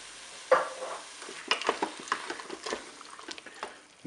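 Peeled tomatoes tipped into a Cookeo multicooker pot with peppers, a soft sizzle under a series of stirring scrapes and clunks, close and intermittent, no voices.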